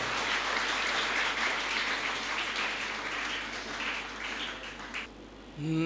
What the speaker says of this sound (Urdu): آپ کی تالیوں کی گونج میں